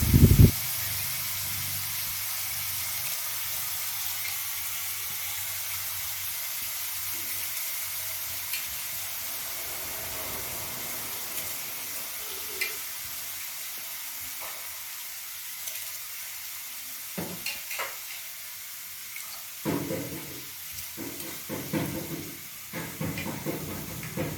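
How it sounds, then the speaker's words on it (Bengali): Soaked rice goes into a pot of water that has boiled for ten minutes, with a steady hiss of boiling broken later by a few short splashes and knocks. "জলটা 10 মিনিট ফোটার পর এরপর ভেজানো চালটা আমরা হাঁড়ির মধ্যে দিয়ে দিচ্ছি।"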